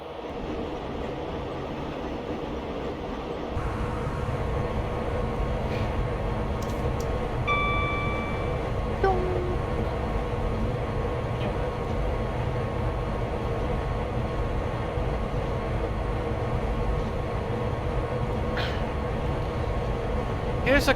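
A Class 92 electric locomotive in the Train Sim Classic game runs past Gatwick Airport on a London route, giving a continuous cab drone and rail rumble with a few brief high tonal whines and clicks along the way.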